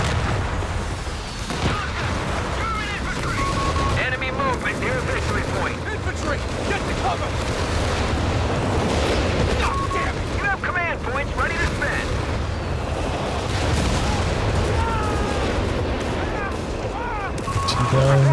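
Artillery barrage in Company of Heroes 3 during a 2v2 match: continuous heavy booms and rumbling blasts fill the clip, with gunfire and battle chatter layered under it.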